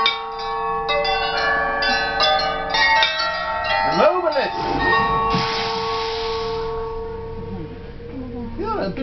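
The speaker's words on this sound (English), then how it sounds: "I want you to ring the bell one time." A bell rings in a wand shop at a theme park, its bright ringing tones and decaying harmonics layered with swooping magical effects, while a voice speaks over the scene.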